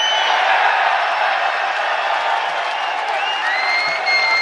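A packed UFC 284 press-conference crowd in Perth roars with sustained cheering, applause and scattered whoops, loud and continuous, with occasional higher whistles cutting through.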